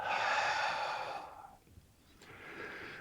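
Soft breathing during a slow tai chi and qigong flow, a long drawn breath that fades into near silence, then a faint breath rising again at the end.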